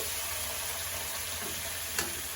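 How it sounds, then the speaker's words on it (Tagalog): Boiled pork belly fries in a pan with no oil for pork adobo, giving a soft, even hiss of sizzling that holds steady for a couple of seconds. A single light clink sounds near the end, and there is no speech. "Iprito ng walang mantika"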